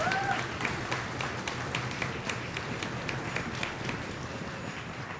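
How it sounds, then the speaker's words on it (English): A school winter concert audience gives a sustained round of applause, a dense even patter of many hands clapping with a faint voice or two beneath it. "can we give a round of applause for Miss Madrigal in the music room?"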